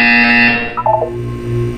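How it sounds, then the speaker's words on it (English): An alarm-like buzzer from the video game Portal 2, a loud, harsh electronic tone sounding close up, dropping into a short warbling chirp before a low sustained hum. "You will hear a buzzer. When you hear the buzzer, look up at the ceiling."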